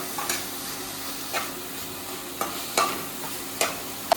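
Spices with cloves and pepper being stirred in a hot pan, a soft sizzle broken by several sharp scraping strokes of a spoon at irregular intervals, close and without speech.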